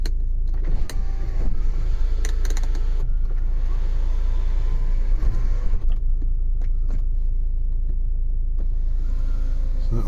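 Electric sunroof blind in a 2017 SEAT Alhambra TDI Ecomotive opening with a steady motor whir, heard over a constant low cabin rumble.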